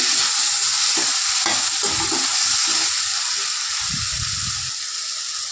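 Brinjal and mango pieces fry in a pan of hot oil with a loud, continuous hiss, while a spoon stirs and scrapes through the curry in uneven strokes that grow softer near the end.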